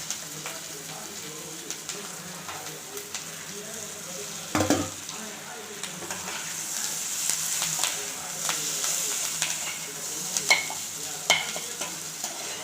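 Potatoes frying and being stirred with masala spices and curry leaves in a pan, a steady close sizzle with scraping stir strokes throughout, one louder clatter partway, no talk.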